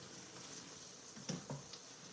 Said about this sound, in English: Let me give this a good stir.